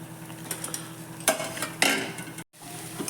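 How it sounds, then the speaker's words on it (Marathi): Coriander stuffing for Nagpur-style patodi is stirred in a pan, with soft sizzling, scattered scraping taps of a spatula and two sharper clinks, quiet and close with no talking. "सांबार मऊ पडेल एवढ्या वेळ आपल्याला त्याला परतून घ्यायचं आहे"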